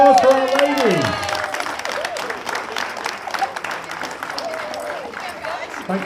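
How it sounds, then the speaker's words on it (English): An audience applauds at a British bench press championship, and the clapping and cheering go on steadily. A voice rises and falls loudly at the start over the crowd. "All right, round of applause for our ladies."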